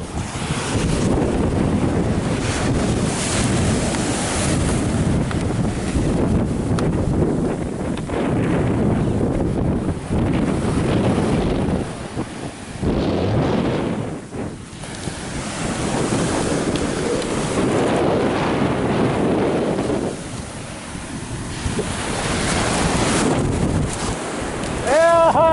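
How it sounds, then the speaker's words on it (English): Waves surging and wind buffeting the microphone on the Jamaican Sea, a loud continuous roar of surf with gusting rumble that rises and falls over about twenty-five seconds. "Time to go fishing. First time in the Jamaican Sea."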